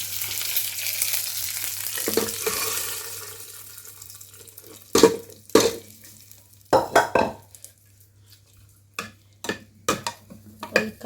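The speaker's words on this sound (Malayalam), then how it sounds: "അപ്പോൾ നമ്മളെ കറിയും കൂടിയും വറവിടുക." Dal curry being tempered in a pan, with a steady hiss of sizzling oil at first that fades, then a series of sharp scraping and stirring clatters from a spoon against the pan.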